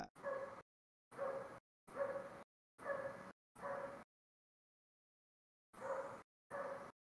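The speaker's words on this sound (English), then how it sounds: "It's not Bora's dog that's unhappy." Dogs barking in a series of seven evenly spaced woofs, clean and isolated, with a longer pause before the last two.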